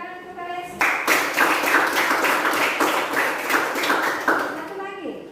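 Classmates clap together for a student in a classroom, a dense burst of many hands patting in an uneven rhythm for several seconds, moderately close, with a voice speaking briefly just before and after.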